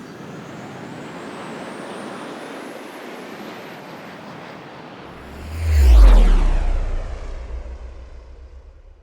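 An airplane taking off swells from a low distant rumble to a loud roaring pass with a rising whine, peaking about two-thirds of the way through, then fading away with no voices.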